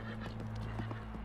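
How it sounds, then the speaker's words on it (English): Galloping horses as a sound effect, rapid rhythmic hoofbeats pounding under a low steady drone, faint and somewhat distant. "the horses began coming out of it with empty saddles"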